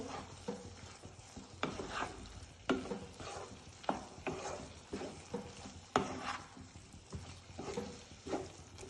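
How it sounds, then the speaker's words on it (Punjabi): Spoon or spatula stirring boiled rice into cooked Maggi noodles in a pan, a steady run of scraping strokes with soft sizzling beneath, close and moderately quiet, no voices. "ਇਹ ਪਾ ਦੇਣੇ ਵਿੱਚ ਇਹਦੇ ਚੰਗੀ ਤਰ੍ਹਾਂ ਮਿਲਾ ਦਿੰਨੇ ਆ ਇਹਨਾਂ ਨੂੰ"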